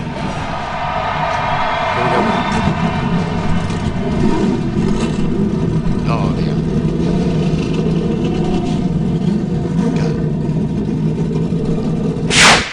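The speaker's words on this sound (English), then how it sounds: "Gentlemen, start your engines." NASCAR Sprint Cup stock car engines at the Coke Zero 400 fire up and rev, a loud rumbling chorus of many engines swelling and fluctuating throughout, with a brief voice heard over the noise.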